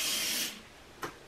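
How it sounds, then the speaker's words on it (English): An aerosol can of Lysol disinfectant spray releases a steady half-second hiss up close, followed by quiet and then a brief soft knock or rustle. "Yep, still spraying Lysol and everything."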